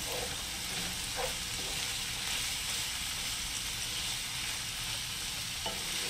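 Brown mushrooms frying in a pan with pork, a steady close sizzle with faint stirring scrapes and no talking.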